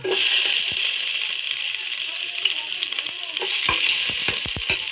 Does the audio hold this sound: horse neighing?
no